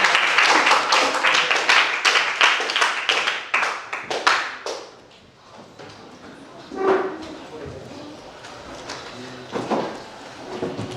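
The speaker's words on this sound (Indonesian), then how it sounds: "sekali lagi berikan tepuk tangan untuk yang ada di depan" Students in a classroom clap for classmates at the front in a brief burst of quick, close handclaps, which fade after a few seconds into scattered taps and a teacher talking.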